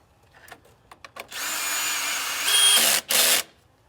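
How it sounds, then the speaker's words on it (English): Power drill or impact driver running bolts back in during an LS engine fuel injector replacement: a few short taps, then one long steady whir and two closer bursts, alone without talk. "the next step is to screw these bolts back in"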